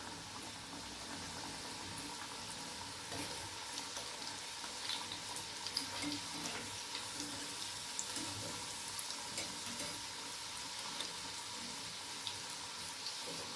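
Farsan snack frying in hot oil until golden, a steady, soft bubbling sizzle with occasional faint pops, continuous and close, without talk.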